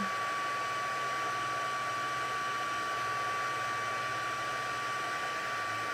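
Heat tool melting embossing powder on a birthday card, a steady close hum-and-rush of blowing air with a thin constant whine, running unbroken with no talk.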